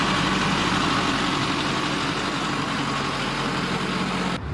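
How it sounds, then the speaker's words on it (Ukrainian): A DCB tractor's diesel engine idles steadily and loud, a dense, unbroken rumble that holds for several seconds with no voices, then cuts off abruptly at the end. "Трактор DCB, який допоможе нам копати бліндажі."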